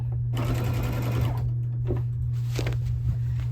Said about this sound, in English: simply sewing a 1/4 inch seam with my regular presser foot straight stitch, attaching the binding to the back of my quilt